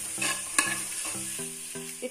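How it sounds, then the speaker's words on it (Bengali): Radish paratha fries in a pan with a steady close sizzle, broken by several spatula scrapes and stirring knocks spread across the clip, with no voices. "আমি দুই তিন মিনিট এমনি ভাজি নেব"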